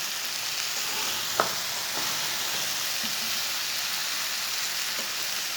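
Okra (bhindi) fries over high heat with a steady, dense, close sizzling hiss that barely changes, broken by a few faint clicks and one small sharp tap near the start.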